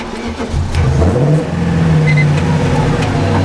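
A car engine revs hard during donuts. It is a loud, close, sustained roar that climbs in pitch and holds under heavy throttle, with no talk over it.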